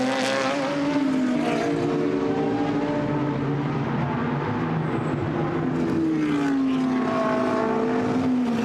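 GT race cars at the Misano circuit roar past in a loud, continuous engine drone, pitch sliding up and down through gear changes as several cars follow closely through the final corner and onto the start-finish straight.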